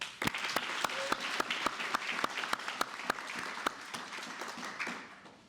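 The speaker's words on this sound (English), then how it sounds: "First, can we give a round of applause to DeAndre and Samantha?" Crowd applause at a workforce training graduation ceremony in Seattle Southside, steady dense clapping with sharp individual claps standing out, sustained for several seconds before tapering off.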